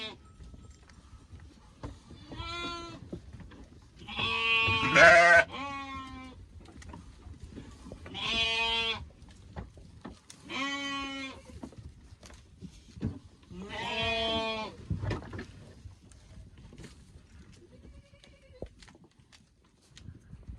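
Sheep and lambs bleat repeatedly in a barn, several loud calls spaced out over quiet background rustling.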